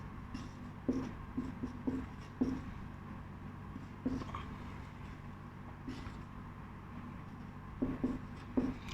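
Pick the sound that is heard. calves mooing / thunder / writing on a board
writing on a board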